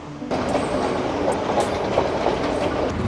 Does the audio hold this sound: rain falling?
no